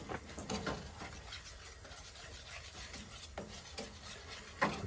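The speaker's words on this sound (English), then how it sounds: "give it a good stir." A utensil scrapes and swirls through boiling red eye gravy in a pan, with soft repeated scraping strokes and bubbling patter, close but quiet, and a sharper knock of metal near the end.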